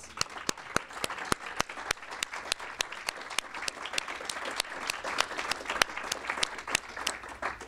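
An audience at a college capstone and systems project presentation gives the students a round of applause: sustained clapping with sharp individual claps standing out, moderately loud and continuous for several seconds.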